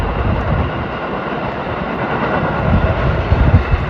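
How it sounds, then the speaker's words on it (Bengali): A train rolls past close by near Edison, New Jersey, in winter, with a loud, steady rumbling roar that swells slightly toward the end. "একদম যাকে বলা যায় সিনেমার মতো পাশ দিয়ে চলে যাচ্ছে ট্রেন"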